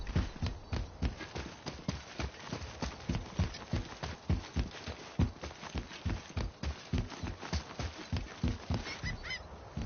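Horse hooves clip-clop in a video game, a steady close rhythm of muffled thuds at a brisk walking pace running throughout, with no talking.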